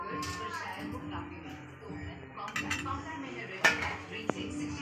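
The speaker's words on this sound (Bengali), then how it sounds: "চাপা দিয়ে দিই।" A lid is set on a cooking pot with milk added, giving several metallic clinks and one sharp clatter near the end, amid faint kitchen rustling and a voice speaking.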